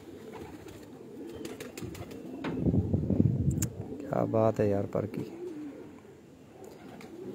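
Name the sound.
pigeons cooing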